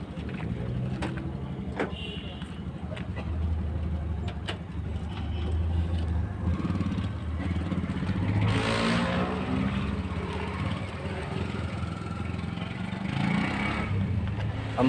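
A motorbike engine runs steadily throughout, a continuous low rumble with a brief rise in revs midway, heard alone without talk.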